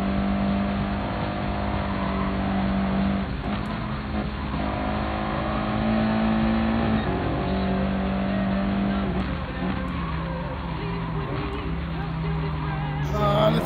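The Audi TT Cup race car's engine in Gran Turismo Sport drones and revs steadily through gear changes, with a player talking over it throughout.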